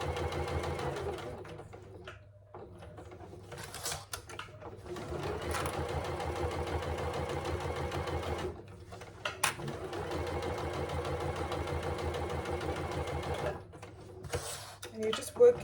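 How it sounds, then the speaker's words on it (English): Sewing machine stitching the seam allowance of a zip pouch at about an eighth of an inch, running in several steady bursts separated by short pauses and small clicks, close and moderately loud. "So you're just stitching in the seam allowance at about 1/8 of an inch."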